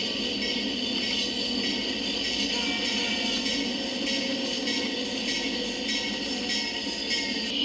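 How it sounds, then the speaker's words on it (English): Conrail SD40-2 high-hood locomotive 607 and former Penn Central GP30 2206 stand with a local freight at a station in heavy snow, giving a steady, loud rumble of diesel engines and rail noise with no pauses. "SD40-2 High Hood number 607 and former Penn Central GP30 number 2206, stops at a train station to reverse into a grain elevator"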